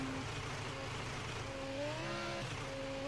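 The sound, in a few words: car driving slowly in third gear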